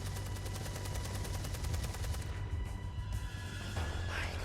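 Rapid gunfire from the video game Beyond: Two Souls, a dense rattling burst of shots that runs steadily for a few seconds and then thins into a rumbling, noisy backdrop, loud and sustained without speech.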